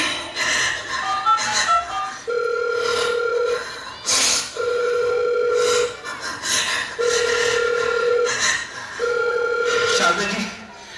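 A phone rings in four evenly spaced bursts of a steady electronic tone, with voices and background sound continuing between them.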